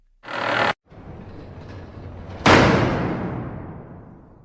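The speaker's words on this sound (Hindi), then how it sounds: "लेकिन अचानक दरवाजा बंद हो जाता है।" A heavy door slams shut with a loud single bang that rings and decays over a couple of seconds, preceded by a brief rushing noise, with no voices.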